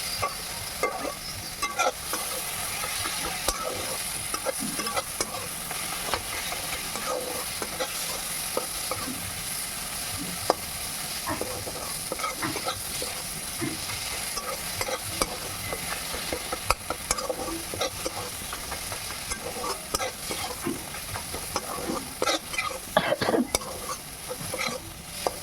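Spice masala for egg tadka frying in a pan, a long steady sizzle punctuated by frequent spatula scrapes and light clinks of metal as it is stirred, close and continuous with no talking.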